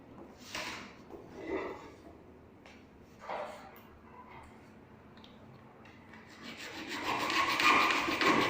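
A length of PVC wiring casing is cut during house wiring for a lamp: a few short scraping strokes, then a longer, louder rasping stretch at the end, close by with no talk.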